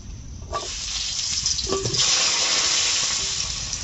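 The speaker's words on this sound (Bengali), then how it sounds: "আলুগুলোকে ভেজে নিচ্ছি" Washed, cut potatoes go into hot mustard oil, setting off a sudden loud sizzle that holds as a continuous close hiss for several seconds.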